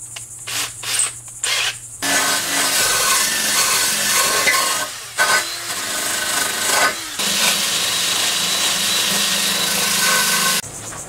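A power drill fitted with a cleaning attachment scours the inside corners of a fiberglass lawn mower deck, giving a loud, harsh grinding whirr in long bursts separated by short pauses and brief starts, close and without talk.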